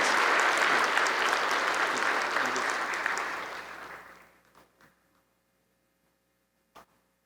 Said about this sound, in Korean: 이 직분을 잘 감당할 수 있도록 우리 힘써서 한번 박수했으면 좋겠습니다